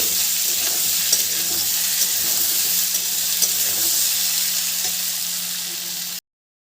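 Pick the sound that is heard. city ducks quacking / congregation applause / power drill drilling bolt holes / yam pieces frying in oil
yam pieces frying in oil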